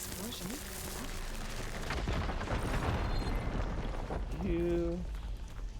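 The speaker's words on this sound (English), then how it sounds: "Explosion." Rumbling video game explosions and blasts, layered with booming bursts and tonal game effects, continuous and loud with a person speaking over them.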